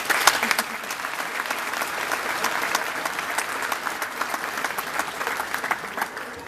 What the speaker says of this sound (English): Let's give these three a round of applause